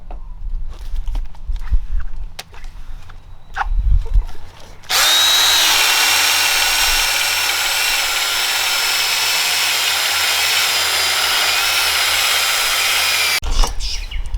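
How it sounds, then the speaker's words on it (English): A power polisher runs on a car headlight lens coated with polishing compound, a steady loud whir starting abruptly and holding for about nine seconds before cutting off, preceded by faint handling knocks. "After completing the final sand, we're now going to apply the polishing compound to the headlight."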